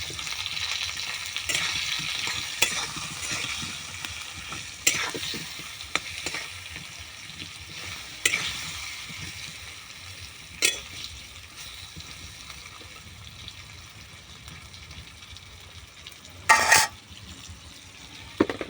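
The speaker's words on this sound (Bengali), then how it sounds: "নেড়ে দেবো।" Khichuri frying and being stirred in a pan, a steady close sizzle broken by occasional scrapes and clatters of the spoon, with a louder burst of stirring near the end.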